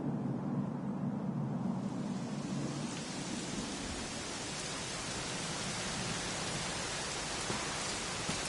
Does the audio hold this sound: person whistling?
no